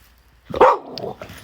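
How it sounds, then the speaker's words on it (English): A dog barks once, loud and close, then gives a softer short yip. "Like dogs barking."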